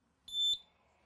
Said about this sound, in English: This smoke detector is more effective at waking sleeping children than most because it plays a loud recorded message from a parent instead of sounding an alarm.